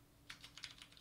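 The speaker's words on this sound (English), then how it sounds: "Love that loud keyboard." A loud mechanical computer keyboard clacks through a quick burst of about eight sharp keystrokes in an uneven rhythm, close and crisp against a quiet room.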